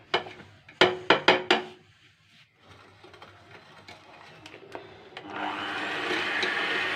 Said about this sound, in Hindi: हमने अपने बीटर की स्पीड बढ़ा दी है।